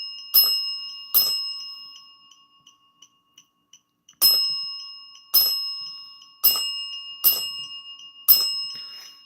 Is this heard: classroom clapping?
no